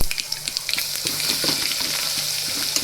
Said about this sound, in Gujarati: આ લસણની પેસ્ટ લઈ લીધી છે, તેને આપણે તેલમાં એડ કરી દઈશું